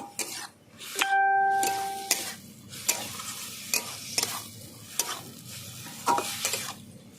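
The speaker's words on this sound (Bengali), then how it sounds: "ভালো করে আমি মিশিয়ে দিচ্ছি সব একসঙ্গে" Grated coconut, kohlrabi and prawns stirred in a pan, a spatula scraping in repeated strokes with short metallic knocks over a soft sizzle, close and fairly loud.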